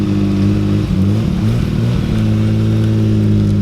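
A fully built KA-T car engine being tuned revs hard and loud, up close, with stepped rises and drops in pitch over a steady droning idle, no talking.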